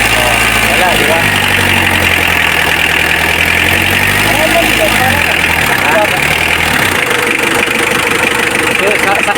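A Mitsubishi Adventure diesel engine, just refitted with a new timing belt set, idles steadily up close with a continuous clattering rumble and light ticking, then the idle shifts slightly partway through.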